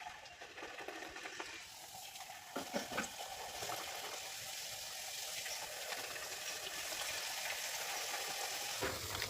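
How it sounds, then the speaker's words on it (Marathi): Small pieces of khari pastry frying in hot oil, a continuous close sizzle that grows denser and louder over the span, with occasional scraping and stirring touches. "नंतर आपल्याला हे तेलामध्ये फ्राय करायचे आहे"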